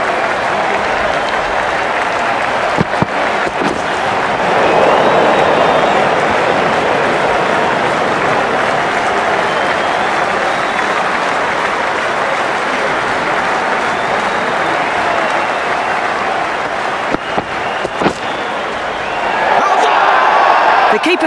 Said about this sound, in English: crowd is absolutely loving this as the bowler comes in again.